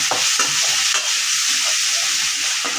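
Onions and tomatoes sauté in a pan for a village-style black urad dal chutney: a loud, close, constant sizzle broken by several scraping stirs of a spoon against the pan, with no talking.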